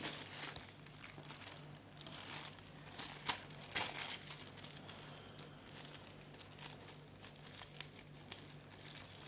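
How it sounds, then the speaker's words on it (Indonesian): Packaging crinkles and rustles as a newly delivered item, a replacement part for an air conditioner, is unboxed at home, with faint, irregular crackles and crumpling throughout and no voices. "ya udahlah kita unboxing aja nih, John."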